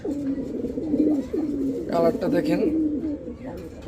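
Opal bar pigeons coo at a breeding loft, a soft low murmuring running through most of the moment while someone talks over them close by.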